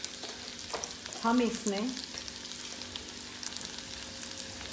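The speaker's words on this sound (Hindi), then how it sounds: "इन सब्जियों को हमें बिल्कुल कुक नहीं करना ज़्यादा देर के लिए, बस स्टर ही करना है।" Vegetables stirred briefly in a hot pan for a pizza pot pie: a low steady sizzle with a spoon scraping and clacking through the pan, close up, and someone speaks a few quiet words.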